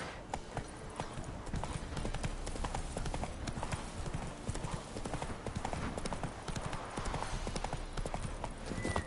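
Horse hooves gallop in The Witcher 3: Wild Hunt, a fast, steady, continuous clip-clop rhythm close by, with no one speaking.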